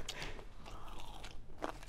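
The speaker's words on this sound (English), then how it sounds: "He's munching." During a hot sauce challenge, someone bites and chews food up close, producing crisp crunches and wet chewing, with a sharp bite near the end.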